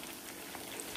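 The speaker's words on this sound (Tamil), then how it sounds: "அதுலேயே வேகட்டும், நல்லா ஃப்ரை ஆகட்டும்" Prawns deep-frying in hot oil for crispy restaurant-style prawn 65, giving a steady, even crackle and fizz that runs unbroken through the moment at low level, with no voices.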